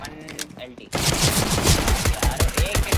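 Video game gunfire erupts after a moment of quiet talk: rapid automatic bursts of loud, closely spaced shots continue steadily, with a voice speaking underneath.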